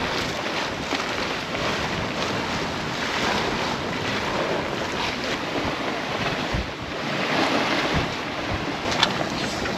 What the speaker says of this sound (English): So we're just sailing on